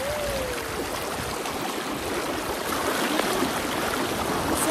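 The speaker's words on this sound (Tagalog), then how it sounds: "May ilog kasi, guys." A river flows steadily near a bathing spot in Occidental Mindoro, a continuous close rushing and babbling of water that fills the whole moment without any voices.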